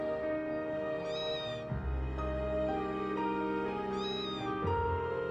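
Cat meows in the video game Trails of Cold Steel III, two clear rising mews a few seconds apart over soft background music.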